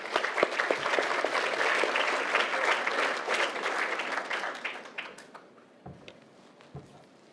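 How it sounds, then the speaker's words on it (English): A large audience at an AI awards ceremony breaks into dense, sustained applause, many hands clapping together loudly before the sound gradually thins and fades toward the end, leaving scattered final claps. "Everyone a big round of applause, please."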